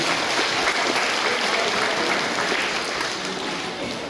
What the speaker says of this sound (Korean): 박수 한번 크게 보내주시기 바랍니다.